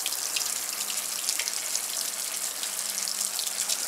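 Mains water at full pressure runs steadily from an outlet, a constant close splashing hiss with no pauses and no voices.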